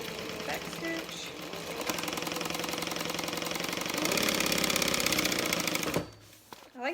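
A sewing machine back stitches a seam on a small bag, a close, rapid mechanical chatter that shifts pace midway and stops abruptly near the end, with a voice speaking over it.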